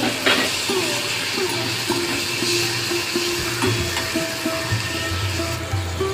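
Chopped tomatoes sizzle and crackle in hot oil in a pan while making lote fish jhuri, a steady close frying hiss with occasional stirring scrapes and clinks.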